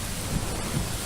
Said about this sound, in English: Cindy made landfall overnight as a tropical storm with sheets of pounding rain and powerful winds in southwest Louisiana